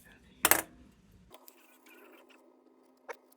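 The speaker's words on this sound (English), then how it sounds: "these flea market scissors I got don't cut wicks very well" Flea market scissors trimming the wick of a Dietz Monarch lantern make one sharp, quiet snip, followed by a fainter click a few seconds later in an otherwise hushed room.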